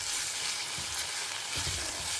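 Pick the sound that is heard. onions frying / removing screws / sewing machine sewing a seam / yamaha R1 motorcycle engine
onions frying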